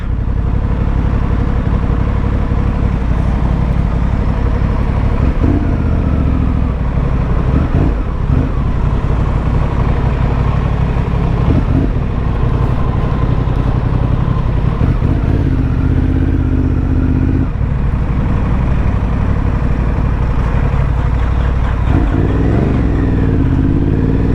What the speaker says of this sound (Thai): รถเขาสตาร์ทไม่ติดนะทุกคน